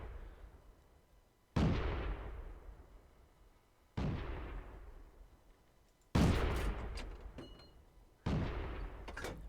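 Tank cannons fire in World of Tanks, four heavy booming shots spaced a couple of seconds apart, each striking sharply and then rolling away in a long decaying rumble, with no voices.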